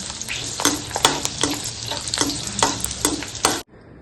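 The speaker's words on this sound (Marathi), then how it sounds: "तळून घेते लसूण।" Garlic frying in oil for a traditional poha chivda, with a steady close sizzle broken by regular stirring scrapes about every half second that cut off abruptly near the end.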